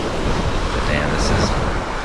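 Ocean waves crash and wash steadily onto a tropical beach at night in Galibi, Suriname, a loud continuous surf roar mixed with wind buffeting the microphone.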